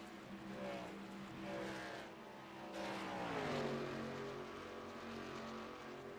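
Racing trucks in a truck championship race roar past on track entering turn three, engines whining close by and then dropping in pitch as the field sweeps away.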